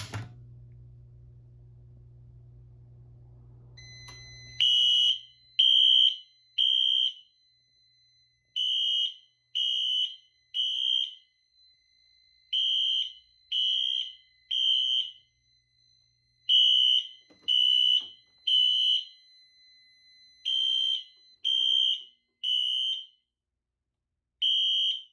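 A Gamewell-FCI Identiflex 100 fire alarm panel sounds an alarm signal, beeping in groups of three sharp high-pitched tones, repeating steadily with short pauses between sets, after a brief low hum.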